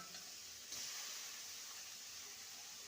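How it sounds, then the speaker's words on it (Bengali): Medium-sized shrimp, about 200 grams, hit a pan of ground spice paste and fry with a steady broadband sizzle that surges louder as they go in, then holds an even, close hiss throughout. "এবার ধুয়ে রাখা চিংড়ি মাছ দিয়ে দেবো"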